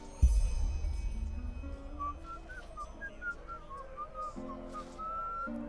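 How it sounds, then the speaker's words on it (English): A girl character in Enderal, a total conversion mod for Skyrim, whistles a low, wandering melody of clear separate notes, fairly faint, over quiet game ambience. "It's a very low whistle for a little girl."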